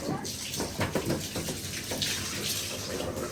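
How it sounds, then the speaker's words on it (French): A young child pours cold water into a container, making continuous close splashing and trickling while voices talk over it. "Il met de l'eau dedans, Thiago."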